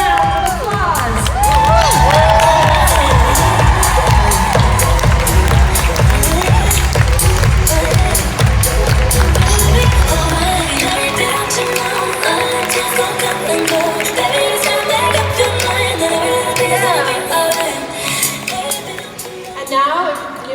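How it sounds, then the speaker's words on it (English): A large audience at a 2018 corporate event gives a standing ovation for a scientific advisory board, with loud sustained cheering, whooping and applause, plus crowd shouting that fills the whole stretch before gradually thinning toward the end. "our Scientific Advisory Board a great standing round of applause."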